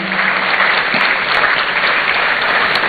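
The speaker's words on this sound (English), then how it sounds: "A better round of applause for him, ladies and gentlemen." Audience applause at a university entrepreneurship programme launch in Ghana, a steady, dense wash of clapping from a seated crowd that fills the whole stretch at an even level.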